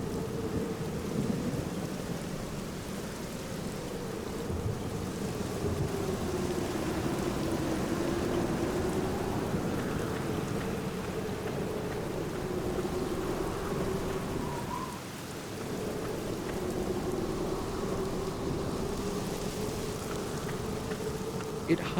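Constant rainfall with low rumbling thunder rolling underneath in the game The Black Mirror, a steady droning ambience that holds evenly with a brief dip partway through.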